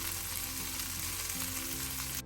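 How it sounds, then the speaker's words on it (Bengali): Beef tripe frying in a pan at home, a steady close sizzle and crackle that continues without a break and with no voices. "গরুর ভুঁড়িটা, এটাও আমি এখন ভাজা ভাজা করে নিব আবার"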